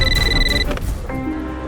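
A telephone rings with a bright electronic trill for about half a second and then falls silent, loud and close, in a Savdhaan India crime drama.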